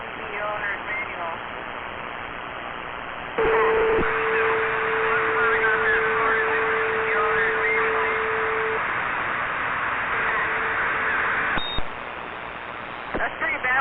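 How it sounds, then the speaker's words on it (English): CB radio transmission with a narrow, hissy channel sound, where a long steady electronic tone sustains for several seconds and a shorter tone follows later, with a voice coming through the radio around it. "That's pretty bad when your Roger beep is louder than your voice."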